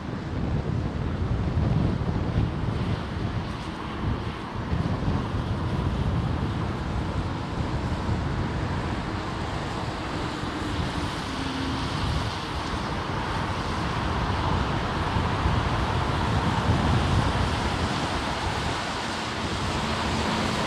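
Strong gusting wind at London Heathrow Airport roars steadily into the microphone with a dense, continuous rumble and no pauses throughout.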